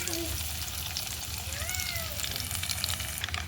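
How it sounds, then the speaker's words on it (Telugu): Mustard-type tempering seeds and crushed garlic fry in hot oil for an amla pickle, giving a steady close sizzle with faint crackles throughout and no talk. "తాలింపు గింజలు ఎగుతున్నాయి."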